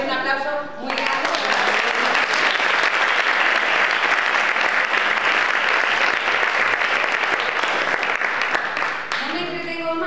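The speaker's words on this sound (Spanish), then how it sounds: "Un aplauso muy grande." Loud, dense applause from an audience at an anniversary celebration for an official language school in Almonte, swelling in after a brief spoken phrase and filling the space before a voice returns at the end.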